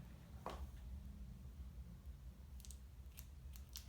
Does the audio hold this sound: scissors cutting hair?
yes